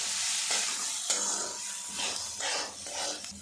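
Moong dal and grated ginger frying in hot oil while being stirred, a steady close sizzle broken by repeated scraping strokes of a spoon across the pan.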